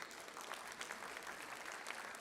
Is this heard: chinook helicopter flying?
no